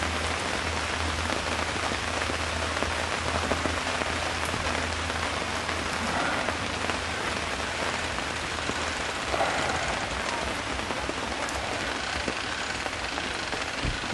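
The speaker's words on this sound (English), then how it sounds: "The rain is setting in again." Steady rain pours down at a demolition derby in Winslow, a dense, even hiss of drops on surfaces with a low rumble underneath, unbroken and fairly close for the whole stretch, with no voices.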